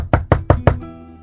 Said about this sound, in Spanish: golpeando la puerta con los nudillos